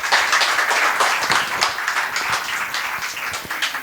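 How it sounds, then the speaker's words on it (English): An audience at the Bhopal Literature & Art Festival applauds an award-winning fiction author, producing a full, steady burst of clapping from many hands in a hall. "A huge round of applause for her"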